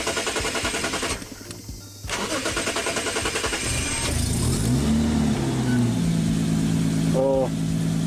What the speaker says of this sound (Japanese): おお、とりあえず無事エンジンかかりました。